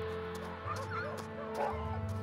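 A dog whimpering and yelping in a family film of The Call of the Wild, thin high whines and yips over low background music.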